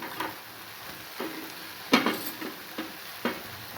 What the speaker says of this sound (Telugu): ఇవన్నీ మనం బాగా ఫ్రై చేసుకోవాలి